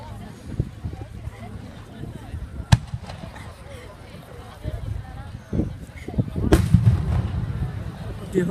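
Fireworks going off at the seaside, with a few sharp, isolated bangs and thuds spread across the stretch, some near and loud, others softer, among crowd noise and people talking close by.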